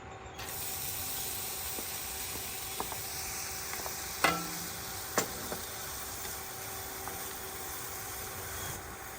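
Chopped or grated carrots sauté in ghee for carrot payasam, with a faint steady sizzle underneath a few soft ticks and one clearer scrape of a spoon against the pan.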